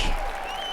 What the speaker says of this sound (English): I have to wait for the applause to die down.